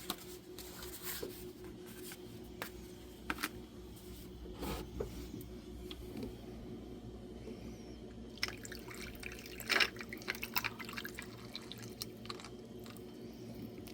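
Water dripping through a countertop water filter into its reservoir, a quiet steady patter of drops with occasional louder splashes, heard close in a calm room.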